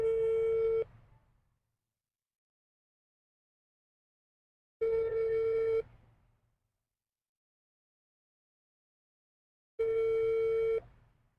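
A telephone tone after an unanswered call sounds in three separate bursts of about a second each, spaced roughly five seconds apart with silence between, clear and alone.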